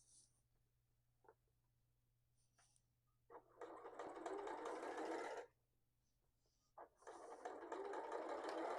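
A sewing machine stitches jelly roll fabric strips together diagonally for a rug, running in two close, loud, rapid bursts separated by a short quiet pause with a few light handling clicks.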